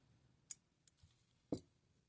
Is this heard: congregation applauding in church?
no